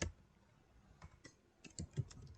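Keystrokes on a computer keyboard while HTML anchor code is typed, a few soft scattered clicks and short bursts at close range in a quiet room.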